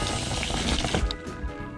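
Water running hard from a newly installed tap in the basement of a cheap, run-down old house in Europe, a steady broadband rush that continues throughout the clip.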